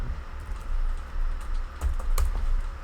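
Rapid keystrokes on a computer keyboard, a quick run of light clicks with a few sharper taps, close and steady, with no voices.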